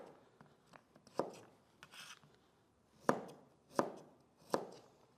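A knife slicing food on a cutting board: several separate crisp chops land close by, a few quieter taps first and then four louder strikes at an uneven pace, with no talking.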